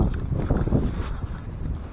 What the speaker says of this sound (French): Oh, le vent de malade, je vous jure, il est glacial.